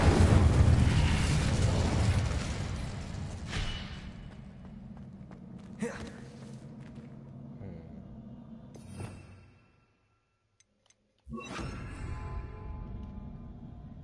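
A fire spell cast in the video game Hogwarts Legacy roars out as a loud whooshing burst of flame, trailing off with thuds and quieter rumbles, then a short silence before another burst of game sound.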